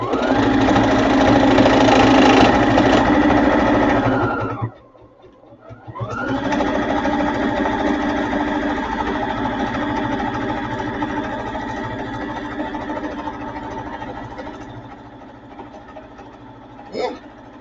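A sewing machine stitches fabric with a loud, steady motor whir close by. It stops briefly, restarts and runs on at a slightly lower level, with a short click near the end.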